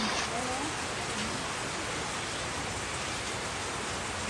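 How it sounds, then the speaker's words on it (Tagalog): Heavy rain pours steadily in a dense, loud hiss, with a voice speaking faintly over it at the start. "Grabe ang ulan na papalakas."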